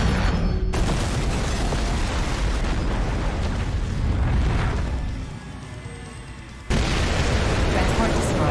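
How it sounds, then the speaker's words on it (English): A transport craft blows up in Daemon X Machina, a loud rumbling explosion with crackling debris that fades and then gives way to a fresh burst of noise, with voices in the scene. "Transport destroyed."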